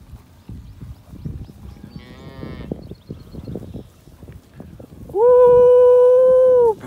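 Three-year-old Braford cattle in a pasture give loud, close, drawn-out moos, one mid-length call and then a long sustained bellow near the end, over low field noise.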